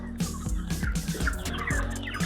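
Broiler breeder chickens in a poultry farm house, a close, loud chorus of gobbling, clucking fowl calls that overlap continuously without a break.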